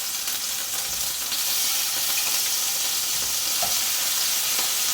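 Shrimp fry in hot oil in a home kitchen with a dense, steady sizzle and hiss, loud and close, with faint stirring clinks and no voices.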